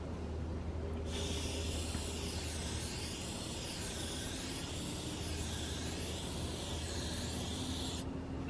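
Steady hiss of a spray coating being applied as a second coat, a continuous broadband spray running close and loud for about seven seconds with a low background hum throughout.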